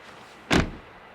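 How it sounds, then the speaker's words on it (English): A heavy door on a 2009 Toyota Land Cruiser swings shut with a single solid, deep thud that decays quickly into quiet. "when you shut the door on this thing,"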